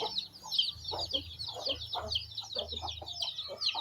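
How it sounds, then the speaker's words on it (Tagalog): Hens and many chicks of a Bisaya native chicken flock cluck and peep continuously at close range, soft rapid chirps layered over low clucking, with no talk. "Ang dami nilang sisiw."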